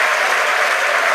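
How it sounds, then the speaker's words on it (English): A crowd at SpaceX headquarters in Hawthorne cheers and applauds loudly and steadily as a recovered Falcon 9 first stage is shown on a drone ship, with dense clapping filling the whole moment. "The crowd's going nuts here at SpaceX headquarters in Hawthorne."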